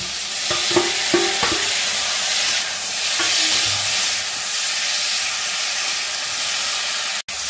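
Drumsticks and tomatoes with salt and turmeric frying in a pan, a loud continuous sizzle and hiss with a few sharp clanks of stirring early on, no talking.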